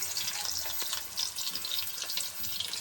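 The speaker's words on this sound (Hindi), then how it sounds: "इसको फ्राई करो प्याज को।" Chopped onions frying in a home kitchen pan give a steady bright sizzle with faint stirring scrapes throughout, no voices.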